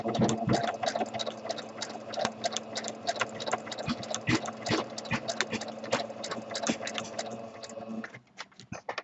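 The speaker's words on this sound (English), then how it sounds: "we'll just give that a little rough edge with the stitching to implicate feathers" A sewing machine runs free motion stitching on fabric, a rapid continuous needle clatter at close range that holds steady, then slows and stops near the end.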